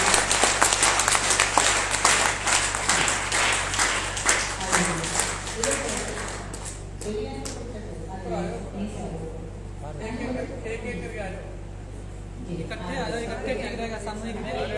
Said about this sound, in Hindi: तो इन्हीं के लिए एक बार पूरा जोरदार तालियों से हाथ उठा के